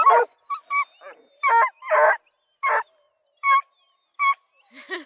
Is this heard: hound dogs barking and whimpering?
yes